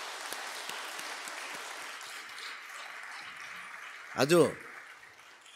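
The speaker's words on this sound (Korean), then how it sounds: "한번 격려의 박수 한번 합시다." A church congregation claps in encouragement, a moderate spread of applause that thins out, followed by a brief, louder voice near the end.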